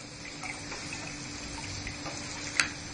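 Hot water is poured onto fried rice in a pot for biryani, producing a soft, steady splashing trickle close by that ends with a brief brighter splash.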